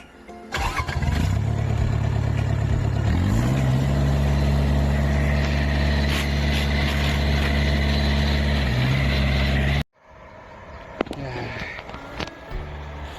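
A small farm engine for a rotary tiller in a field starts up and runs loud and steady with a droning idle, rising briefly in pitch, then cuts off abruptly, leaving quieter outdoor noise and a few knocks.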